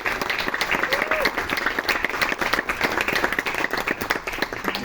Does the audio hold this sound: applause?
yes